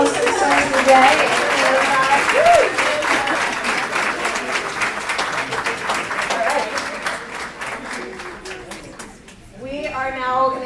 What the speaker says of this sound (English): One more round of applause for Senator Day.